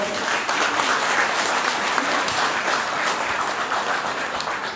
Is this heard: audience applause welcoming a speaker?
yes